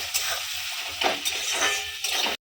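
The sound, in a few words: onions frying in a pan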